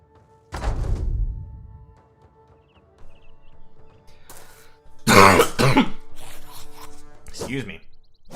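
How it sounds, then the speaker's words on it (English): A person coughs once, loud and close, followed by quieter clearing and muffled movement sounds, with no other voices present. "it's just the cough that I get every winter"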